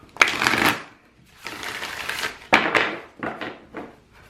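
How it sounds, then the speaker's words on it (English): A tarot deck is riffled and shuffled several times, bursts of fluttering, papery clicks separated by short pauses, close and crisp. "let's go ahead and give a good shuffle here"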